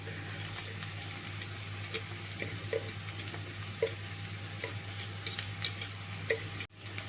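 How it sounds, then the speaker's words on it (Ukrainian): Onion, grated carrot and pepper stew together in a pan, giving a soft, continuous sizzle with faint scattered ticks and pops at close range and no voices, ending in a brief clatter. "Сюди ж додаю перець і все разом тушкую, щоб овочі зм'якли"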